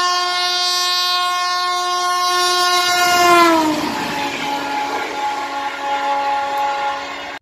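A Chittaranjan Locomotive Works-built electric locomotive on trial sounds a long, loud multi-tone horn that bends down in pitch as it passes, followed by the rumble of the train running along the rails.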